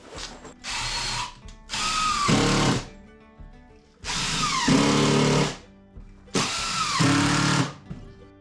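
A power drill drives screws into wood in a workshop, whirring in four loud, close bursts of a second or two each, with the pitch winding down at the end of each burst.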